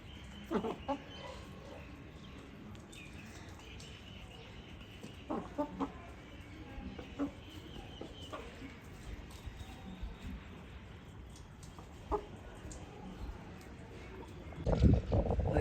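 Chickens in a rural Pakistani village yard cluck and squawk intermittently while being fed rice, with scattered short calls over a quiet outdoor background and a louder rustling burst near the end.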